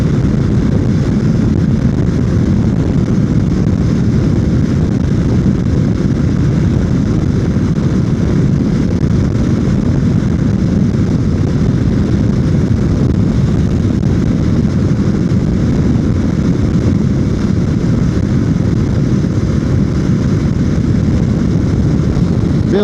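Riding an adventure motorcycle while testing a new helmet, with a constant loud roar of wind noise and engine drone lasting the whole stretch, no speech.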